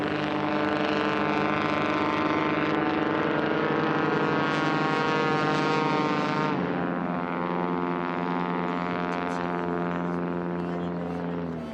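Hopped-up O-340 air race plane engine on nitrous oxide with a composite prop and FADEC control near 3,000 RPM, a loud sustained harmonic drone that shifts pitch midway as it passes close by.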